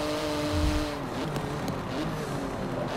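Race car engine in Forza Motorsport 7 droning steadily at high revs, pitch sliding down under throttle control before settling into a sustained roar.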